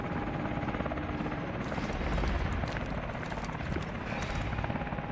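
Helicopter in the video game Call of Duty: Advanced Warfare: continuous rotor thrum with a dense rumble filling the scene, fairly close and steady throughout, with bursts of crackling noise layered on top.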